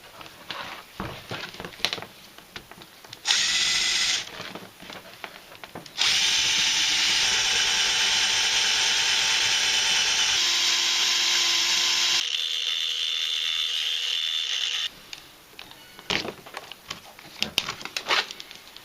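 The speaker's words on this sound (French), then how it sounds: "il va falloir vraiment que je la perce et je vais la remplacer" A power drill bores out a screw on a 12V diaphragm pump in two long bursts, one shorter and one sustained for about nine seconds, with pitch shifts as the bit bites, framed by small clicks and handling noises.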